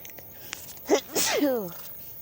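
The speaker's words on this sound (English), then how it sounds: "I feel like I'm going to sneeze" One close, loud sneeze with a sharp intake and a forceful burst, followed by a brief trailing vocal sound.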